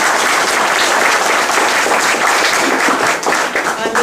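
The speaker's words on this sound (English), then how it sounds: "Let's give him a round of applause." Audience applause fills the room at a League of Women Voters candidates forum in the San Juan Islands, a dense, steady, loud clatter of many hands sustained for several seconds with no speech over it.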